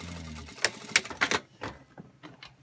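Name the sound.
Singer industrial sewing machine stitching fabric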